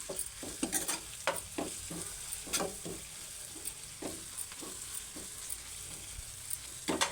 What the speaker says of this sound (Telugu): అల్లం వెల్లుల్లి పేస్ట్ పచ్చివాసన పోయిన దాకా అయితే ఇలా వేయించుకోవాలి